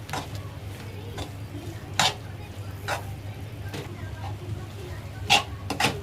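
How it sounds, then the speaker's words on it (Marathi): A spoon stirs a cabbage and gram flour mixture in a pan, making soft, sporadic scraping taps and clinks over a steady low hum, close and fairly quiet. "आणि बेसन असं मिक्स करत राहायचं।"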